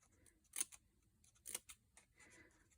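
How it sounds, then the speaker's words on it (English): Scissors snipping along folded score lines in cardstock for a garden trug paper craft: two distinct crisp cuts followed by a few softer, quicker snips, close and quiet with no talk. "And then I'm going to just snip"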